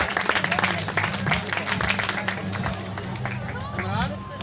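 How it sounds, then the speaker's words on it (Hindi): Wedding guests clap at a marriage ceremony marking Ch. Naseer Sooba's grand entry. Dense, continuous applause fills the space, mixed with crowd noise and voices talking over it. "भरपूर तालियों के साथ"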